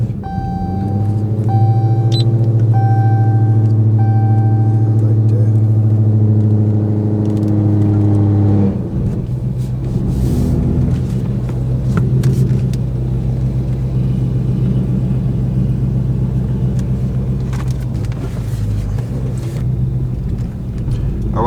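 Inside a Dodge Charger Hellcat, a steady, loud low engine rumble fills the cabin throughout, with a sustained tonal drone early on that fades into an ongoing idle-like hum.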